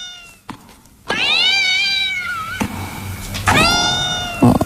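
A domestic cat gives two long, drawn-out meows close by, separated by a short pause, with a soft thump at the end.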